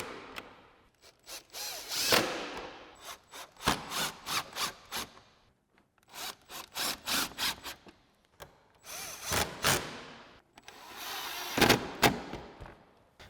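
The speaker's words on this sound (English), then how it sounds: "we can go ahead and reinstall our screws." A power driver runs screws back into the bumper turn signal on a 2015-2017 Mustang during an LED sequential turn signal install, in several bursts of short whirring pulses separated by pauses, close and fairly quiet, with no talking.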